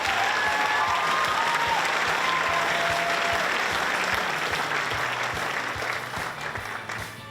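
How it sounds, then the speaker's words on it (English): Sustained audience applause for the finalists at the Mahi Toi 2017 awards ceremony, dense even clapping from a sizable crowd that fades slightly toward the end, with faint voices underneath. "Can we please give them another round of applause?"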